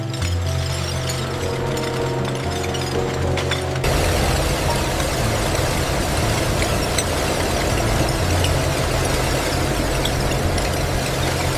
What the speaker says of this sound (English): Powerful airflow dries the recycled glass before melting.